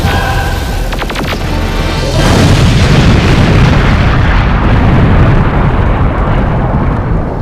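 A bass cannon laser blast goes off as a huge, sustained roaring explosion, a dense wall of rumbling noise that swells after a short crackling lead-in and stays loud and steady for several seconds.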